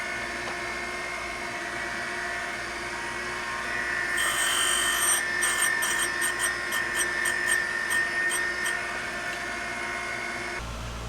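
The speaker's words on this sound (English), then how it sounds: "using the feeler gauge under one side of the connecting rod in an effort to cut the rod at a slight inward angle" A Pontiac connecting rod from a '68 Firebird 350 is machined at a slight inward angle, giving a steady high mechanical whir that swells into a harsher grinding rasp through the middle and then stops abruptly, with no talking.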